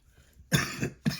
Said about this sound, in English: I think that was the last cough